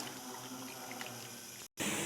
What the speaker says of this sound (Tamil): தக்காளி புளி அப்புறம் அது கூட ஊற தண்ணி கூட இது எல்லாத்தையும் நல்லா கரைச்சிக்கலாம்